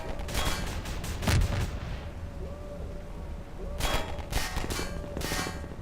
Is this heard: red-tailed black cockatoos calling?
no